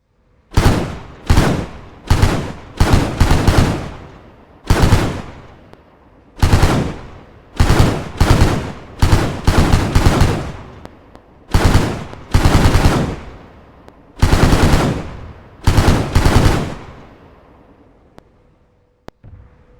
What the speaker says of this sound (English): I will start with the anti-air version of the Hunter, armed with a cannon and short-range missiles.